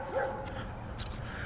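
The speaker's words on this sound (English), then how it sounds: "Every time I come out here for a walk, this dog just goes nuts." A dog gives a couple of short, high yapping barks at a moderate distance over low background noise.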